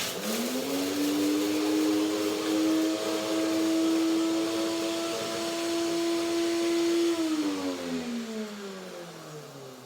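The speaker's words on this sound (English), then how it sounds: "A small amount of seeds, pumpkin seeds here in the blender, and a second one turn around." A blender grinds a small amount of pumpkin seeds into flour, its motor spinning up to a loud, steady whine, holding for several seconds, then winding down at the end, close and alone.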